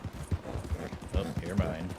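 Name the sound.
horse hooves while riding in a video game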